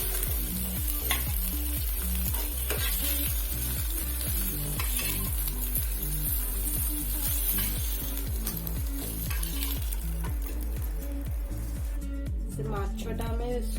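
Chilika dangala fish sizzles and fries in a pan with steady stirring and scraping throughout, fairly loud and close, with a voice talking over the cooking.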